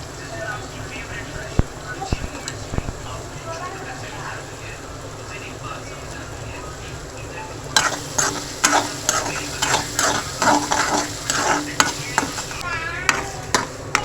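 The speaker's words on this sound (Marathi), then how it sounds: "जिरं आणि राईची फोडणी दिलं तर लसूण आणि कढीपत्ता." Cumin, mustard seeds, garlic and curry leaves go into hot oil as a tempering for dal khichdi: a low sizzle first, then a sharp burst of rapid popping and spattering, with a voice speaking nearby.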